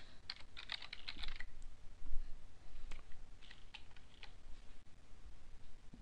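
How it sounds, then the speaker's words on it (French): Quiet keystrokes on a computer keyboard, a run of quick clicks early on followed by sparser, irregular taps, faint against a low background hiss. "je tape mon mail."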